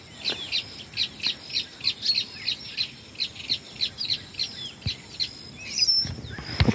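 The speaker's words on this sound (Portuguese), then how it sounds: "Pessoal, um monte de aves." Birds chirping outdoors, a steady series of sharp, high repeated calls roughly twice a second, close and clear, with a louder rustle or flutter near the end.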